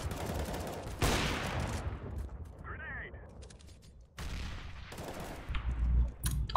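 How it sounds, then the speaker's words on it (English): Rapid automatic gunfire sprayed at a wall in a competitive first-person shooter match, arriving in two loud dense bursts with a quieter stretch between and speech over the action. "You're just going to take a spam shot at the wall."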